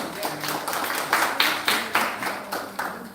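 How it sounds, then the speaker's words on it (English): An audience at a 90th birthday celebration claps for the DJ in a short burst of rhythmic, evenly spaced claps that carry through the room. "Let's clap for him."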